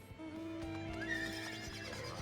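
A horse mount in Final Fantasy XIV neighs and whinnies loudly with a rising, shaky call, over a steady background of game sounds and faint clopping.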